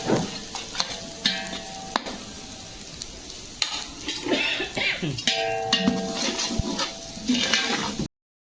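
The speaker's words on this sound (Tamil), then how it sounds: "ஸோ சின்ன கரண்டியை வச்சு நல்லா கிளறிக்கோங்க." Biryani masala stirred in hot oil with a small ladle for a large chicken biryani, steady close sizzle broken by repeated scraping clinks of the ladle against the pot, with no talk.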